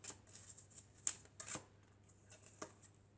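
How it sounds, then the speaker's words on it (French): An oracle card is drawn from the deck and handled, giving soft, quiet rustles and shuffles in small bursts with no voices. "Et on va prendre encore une carte."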